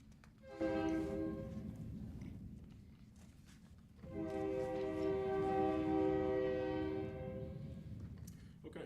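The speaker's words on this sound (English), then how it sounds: "so we're not trying to overtalk the train" A train passes through Stuart, Iowa, sounding its horn in two long, loud blasts over a low rolling rumble, with a short quieter gap between them.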